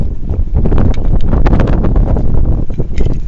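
Strong wind buffets the microphone during solo fishing outdoors, loud rumbling gusts that surge and drop without a break, with no clear voice over them.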